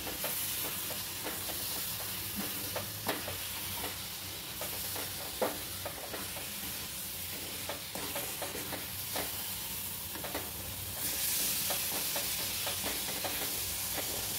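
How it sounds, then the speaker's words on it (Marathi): Coconut burfi mixture with milk cream being stirred in a pan over low-to-medium flame, giving a steady soft sizzle with scattered scraping strokes throughout, close and even with no talk. "आणि सतत ढवळत राहावं। गॅसची फ्लेम लो टू मीडियम ठेवावी।"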